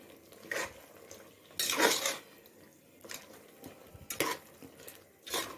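Mushrooms and vegetables are stirred through masala in a pan for Chettinad-style vegetable biryani, giving soft scraping and squishing strokes in a few separate bursts over a faint sizzle.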